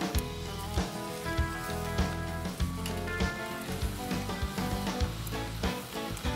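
Lamb chops and asparagus sizzle steadily on a smoky barbecue grill, a dense continuous crackle with sharper pops throughout, close and even in level.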